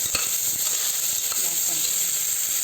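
Two tomatoes frying in a pan of chicken gravy base, a steady close sizzle with a couple of faint clicks of a spoon, no talking.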